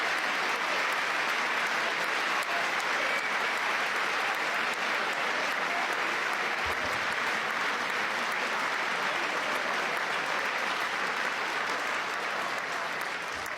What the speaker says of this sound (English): Of course, all the Republicans are clapping.